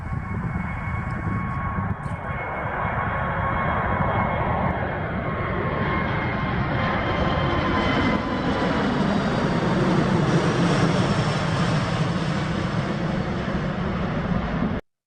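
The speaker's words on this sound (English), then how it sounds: "This snow runway really couldn't stop the Airbus A380 from taking off." An Airbus A380 takes off from a snowy runway with a loud, sustained jet engine roar that holds steady and broad for the whole span, swelling slightly before cutting off abruptly.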